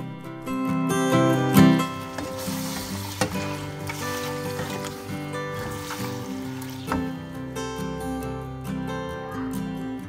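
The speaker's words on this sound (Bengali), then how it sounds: "প্রথমে মাংসটাতে আদা রসুন বাটা, টক দই, পেঁয়াজ বাটা, গরম মশলা গুঁড়ো এগুলো দিয়ে মেরিনেট করে তারপর মাংসটাকে আমি রান্না করে নিলাম।" Meat marinated with ginger-garlic paste, yogurt, onion paste and garam masala sizzles in a pan for biryani. Scrapes and clanks from stirring recur throughout, with tonal background music running underneath.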